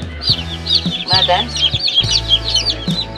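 Chicks and hens of an Australorp and Rhode Island Red crossbreed cluck and peep repeatedly at close range, with a brief voice speaking over the flock.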